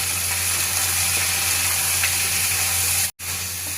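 Spices fry in a pan with salt and turmeric, a steady close hiss and sizzle that runs throughout, briefly cutting out near the end, with no talking.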